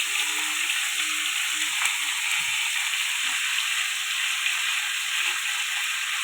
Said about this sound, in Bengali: এবার ফুলকপিগুলো ভেজে নেব। দিয়ে দিলাম ওই তেলের মধ্যে ফুলকপিগুলো।